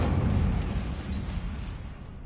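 Casting the Incendio fire spell in Hogwarts Legacy produces a single deep whooshing burst of flame that hits hard at once and then fades away over about two seconds.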